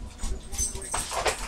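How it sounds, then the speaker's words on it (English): A dog whimpers and yips during play with food, short high whines mixed with excited movement, close by, with people talking over it. "You crazy dog."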